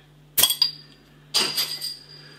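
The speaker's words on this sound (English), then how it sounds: "Let's get it out into a glass, see what we get." Czech lager being opened and poured from a bottle into a glass: a sharp clink of glass, then a brief second knock, followed by a soft fizzing pour and another clinking contact, close and clear over quiet background.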